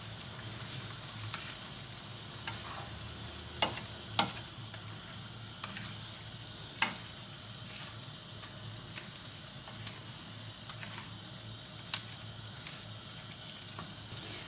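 Chopsuey vegetables with pechay get stirred in a sizzling pan: a steady, soft frying hiss broken by scattered clicks and scrapes from the utensil against the metal, with no talking.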